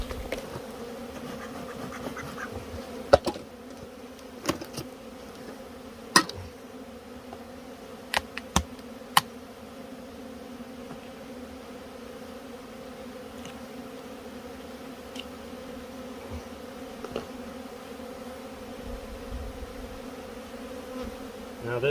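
Honeybee colony buzzing at a hive during an October check with syrup feeding, a steady dense drone throughout with scattered sharp clicks and scratches from handling.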